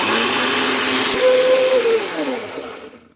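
Cake batter with milk being beaten in an electric mixer, a loud steady whirring hum that rises in pitch briefly and then winds down to silence.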